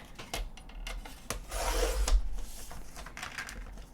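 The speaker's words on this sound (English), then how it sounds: "I'm going to cut a piece of this cardstock down to be a 4 1/4 by 11 inch piece." Gray cardstock is sliced on a paper trimmer, a close dry scraping rasp swelling for about a second in the middle, with a few light taps and rubs before and after.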